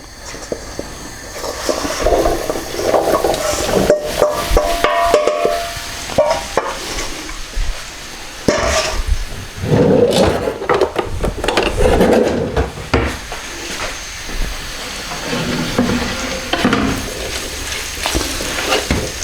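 Steady crackling sizzle of potatoes frying in a pan over medium-high heat, with occasional clatter and stirring knocks over a continuous hiss.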